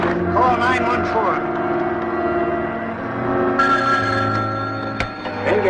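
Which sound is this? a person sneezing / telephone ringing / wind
telephone ringing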